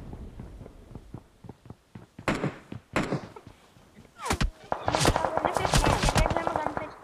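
Gunfire from a weapon being test-fired in BGMI, with a couple of loud sharp shots followed by a dense, sustained burst of rapid fire, over game sounds and a voice talking.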